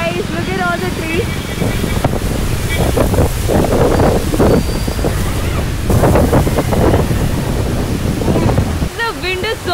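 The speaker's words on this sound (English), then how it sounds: "There's a beautiful wind here. You can see, it's an amazing wind. Very heavy wind, guys. Look at all the trees." Strong wind blows hard on a hillside with trees in Lambasingi, Andhra Pradesh, as a constant roaring rush with heavy buffeting on the microphone, and people talk over it throughout.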